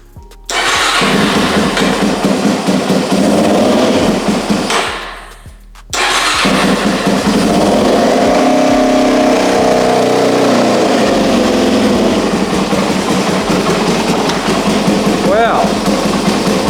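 A Suzuki DRZ400E fitted with a Lectron Billetron Pro carburetor fires up and runs loud and close, briefly dips and catches again, then settles into a steady run while someone speaks over it.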